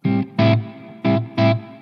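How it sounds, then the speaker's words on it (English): Electric guitar through a Strymon BigSky pedal on its hall reverb setting: four struck notes or chords, each ringing with a broad, spacious tail that carries into the gaps between them, played alone. "the next one along is a hall reverb"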